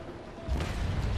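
A ship's cannon fires in the naval combat game Naval Action, one deep boom bursting in after a quiet moment and rolling on to the end.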